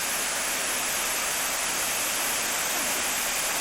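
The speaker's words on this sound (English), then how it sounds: "And the waterfall going through" Waterfall at Liberty Gorge, New Hampshire, rushing steadily as a dense, even roar of falling water, continuous and moderately distant, with no talk.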